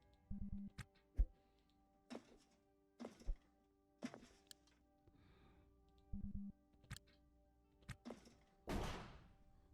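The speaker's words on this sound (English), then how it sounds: "Oh, gunfire." Gunfire in the space game Ostranauts: a series of short, sharp thuds and thumps spaced through the scene, ending in one longer burst of noise with no talk.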